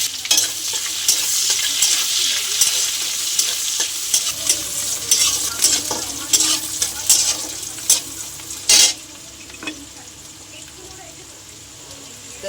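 Cardamom, cinnamon, bay leaf and chopped onion frying in oil in a pan, a continuous close sizzle with scraping stirs and a brief louder burst of spatter near the end.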